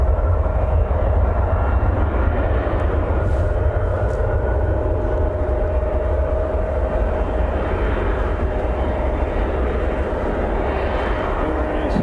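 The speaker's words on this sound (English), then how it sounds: "CRJ taxiing over for departure as well" A CRJ jet taxis for departure at Cleveland on a sunny afternoon, a steady, fairly loud turbine whine and rumble holding constant throughout, heard from a plane-spotting spot at moderate distance.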